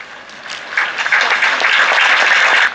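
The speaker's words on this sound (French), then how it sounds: "mais je vous demande de l'applaudir" A church congregation at a jubilee Mass breaks into applause, starting quietly and swelling into loud, sustained clapping from many hands that holds steady before cutting off.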